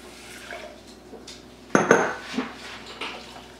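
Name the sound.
adding breakfast bowl ingredients into a pot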